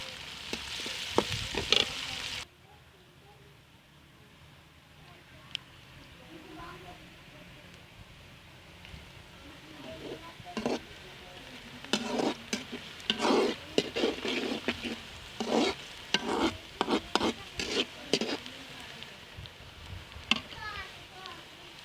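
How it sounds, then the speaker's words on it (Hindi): Onions frying in a pan for a chicken legs recipe, a steady hiss with clicking crackles and occasional scrapes of stirring, starting after a brief louder burst and rising in intensity toward the end. "प्याज हमारा भुन लिया, कलर चेंज होगा"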